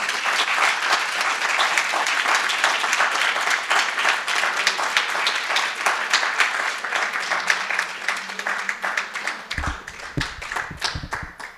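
An audience at a poetry reading claps in a long, dense round of applause, individual hand claps standing out, tapering and thinning out near the close.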